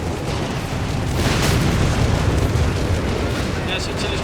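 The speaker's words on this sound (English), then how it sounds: "There's a artillery strike here." Artillery strike in Company of Heroes 3, a dense roar of overlapping explosions and rumbling booms that stays loud throughout, heard under a caster's talk.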